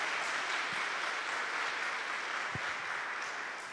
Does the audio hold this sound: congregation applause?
yes